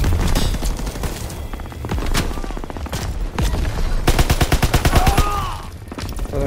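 M1 Garand rifle gunfire in the Call of Duty WWII campaign, with loud, rapid rounds and crackling volleys in several bursts amid battle noise.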